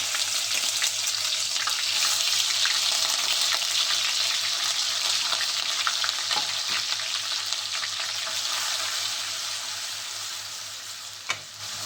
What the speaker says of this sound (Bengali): এবার এতে আমি পেঁয়াজ বাটা দিয়ে দিলাম